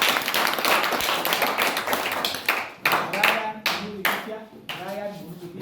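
An audience at a thanksgiving mass at a special school claps hands in a dense burst of many overlapping claps that thins into separate bursts toward the end, with voices mixed in.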